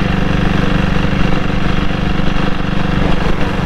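A diesel Bullet motorcycle engine runs steadily while riding, a loud, close, continuous low thrum with an even pulsing beat and no talk over it.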